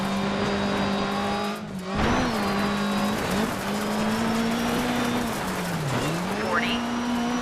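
Rally car engine from the Dirt 3 racing game holds a steady drone throughout, dipping and rising with gear changes and braking, with a brief cut near the start and light tire scrubbing in a close, continuous in-car mix.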